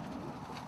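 Soft, low cooing from pigeons in a pen of bluette and satinet birds, a brief murmuring coo heard faintly at a distance.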